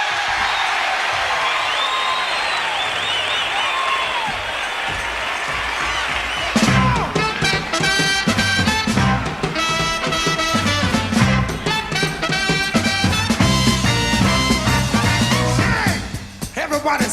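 Crowd at the 1967 Monterey Pop Festival cheering and applauding as a performer is welcomed, a loud roar of clapping and whoops that gives way to a band starting up, with the crowd still audible beneath.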